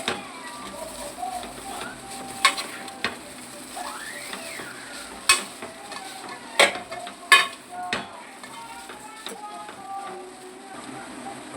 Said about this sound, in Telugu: ఆ నూడిల్స్ అనేది ఇందులో వేసేయాలి. బౌల్లో ఒకసారి కలుపుకోవాలి.